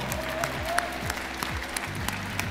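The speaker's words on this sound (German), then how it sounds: "Großen Applaus bitte nochmal" Audience applause at a Smash Bros. tournament at Gamescom 2015, a steady wash of clapping from a crowd that carries on for a few seconds at moderate level.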